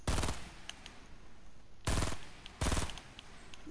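Automatic gunfire in Fortnite: three loud, close bursts of rapid shots, one at the start and two later close together, separated by quieter gaps with faint game ambience.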